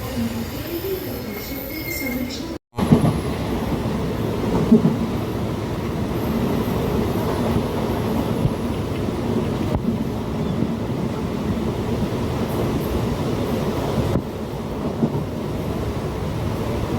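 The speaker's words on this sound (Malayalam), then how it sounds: "പ്ലാറ്റ്ഫോമിൽ വന്ന് നിൽക്കുന്നുണ്ട്. വന്ദേ ഭാരത് എക്സ്പ്രസ് ഡോറൊക്കെ അടച്ചു." Vande Bharat Express train on the Kasaragod–Thiruvananthapuram route standing at a station platform, a steady low rumble and hum of the train with a brief dropout near the start and faint background activity throughout.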